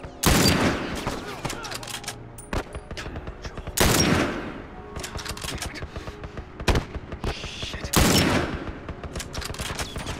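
Bursts of gunfire in The Last of Us crack out in several loud volleys separated by quieter gaps filled with lower clatter.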